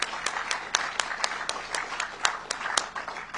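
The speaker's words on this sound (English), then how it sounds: "I think they deserve another round of applause." An audience applauds in a fairly small, quiet burst of scattered claps that goes on for a few seconds at moderate distance, with some talk mixed in.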